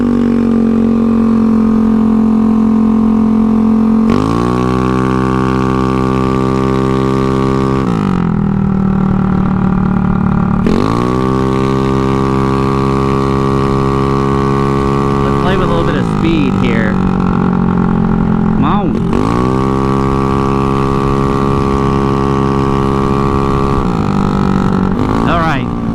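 A Honda Ruckus scooter's small engine revs up and down in repeated cycles, its raspy exhaust buzzing steadily close by, rising in pitch with each acceleration.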